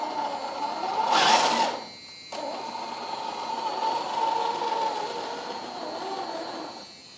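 An electric motor whines steadily in low speed gear on a CROSS EMO XX 4x4 two-speed portal-axle off-road RC racing truck, near and continuous, with a brief louder burst and a short dip midway.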